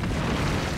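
A magic blast in the Dungeons 2 video game smashes open a city gate, a brief, dense rumbling boom that fills the short moment with steady, loud low-end roar and no voices.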